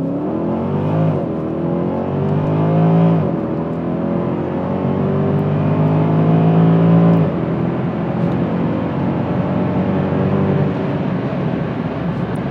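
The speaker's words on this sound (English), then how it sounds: "I think it was a pretty healthy acceleration, wasn't it?" A Mercedes W211 E63 AMG accelerating hard from 0 to 60 with traction control on, its loud, close V8 climbing through the revs in several rising sweeps broken by brief gear-change dips.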